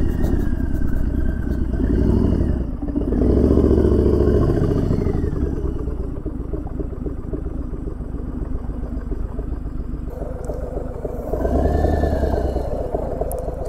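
A Harley-Davidson motorcycle engine runs steadily while riding a mountain road, a loud, close low rumble that swells and eases with throttle changes, with no talk.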